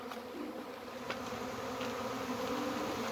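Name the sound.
honey bees buzzing around a hive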